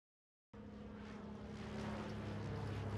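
A propeller airplane engine drone starts suddenly and holds steady, growing slightly louder as a cartoon plane comes in to land at a baseball field in South Jersey.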